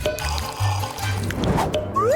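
Bubbles blown through drinking straws into a drink, a steady run of gurgling, burbling bursts in the glass, loud and close, with a brief rising squeak near the end.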